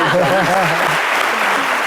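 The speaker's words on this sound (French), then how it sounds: "Applaudissez." An audience applauds loudly at a televised show, broad steady clapping filling the room while a voice speaks over the first half.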